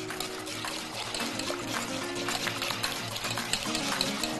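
Béchamel sauce poured over a tray of moussaka with zucchini, making a soft, continuous trickling and gentle splashing with faint scraping, close by.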